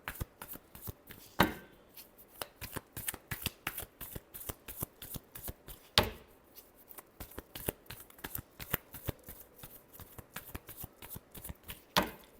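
Tarot cards shuffled by hand in a series of sharp riffling bursts, close and crisp, repeating in an uneven rhythm with a few louder slaps, no voices.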